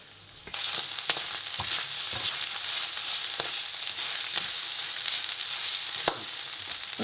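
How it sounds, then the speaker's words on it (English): Rice fries with pimentón in a pan for squid ink paella, giving a steady bright sizzle throughout, broken by occasional scraping stirs and clicks of a utensil. "We're going to fry the rice now."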